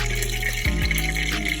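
Chickpea fritters fry in alkaline grapeseed oil with cinnamon, giving a steady close sizzling bubble that runs without a break and has no talk over it.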